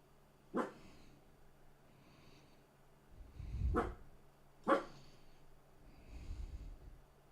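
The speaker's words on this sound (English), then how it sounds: "over here barking at something. He's getting a little wolf going." Dog barking indoors: three sharp, separate woofs spaced a second or so apart, fairly faint, with low huffing breaths in between.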